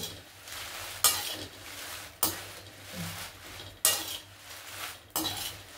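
Chillies roast in a pan for a homemade spice powder as a utensil stirs and scrapes them, giving rhythmic metallic scraping strokes about once a second over a steady frying hiss.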